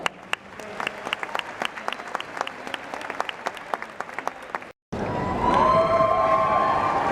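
Scattered individual claps build up at a university graduation ceremony, there is a brief gap, and then a louder wave of full crowd applause and cheering follows for art students and faculty.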